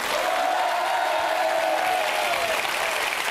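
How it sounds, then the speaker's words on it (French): Audience applause at a French variety TV show evening, a dense steady clatter of clapping filling the room for about three seconds, with some crowd noise mixed in and no one talking over it. "je voudrais qu'on applaudisse très fort Antonia"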